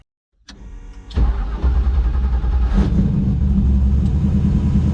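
A truck engine on a dyno cranks and catches at about one second, then runs loud and steady with a deep rumble that swells slightly toward the end, with no talk over it.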